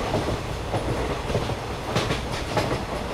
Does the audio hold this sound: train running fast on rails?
yes